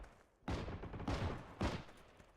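A jeep-mounted machine gun fires in a video game, heard as three loud, dense bursts roughly half a second apart over a low rumble.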